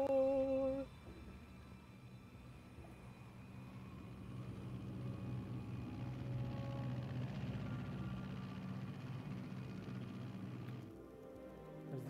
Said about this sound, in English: An airplane. We're gonna fly, yeah,